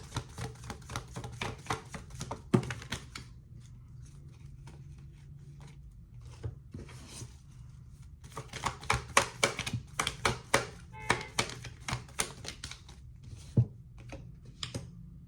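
Oracle cards being shuffled and pulled by hand, a long run of soft, quick, close tapping and riffling clicks with irregular bursts and brief pauses, no talking.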